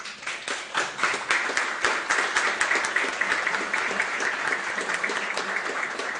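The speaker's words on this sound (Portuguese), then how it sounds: "até para o senhor receber uma salva de palmas aqui" Steady applause from an audience honoring Mr. Sardo at a solemn ceremony for Italian Immigrant Week, many hands clapping in a dense, continuous patter that holds at even loudness from start to finish.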